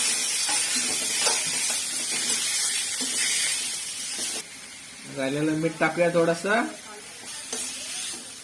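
Liver frying in a black wok with ginger-garlic paste and spices, a loud continuous sizzle with stirring scrapes, partly under a person speaking midway.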